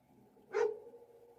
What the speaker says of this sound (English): my dog barking and growling right outside the window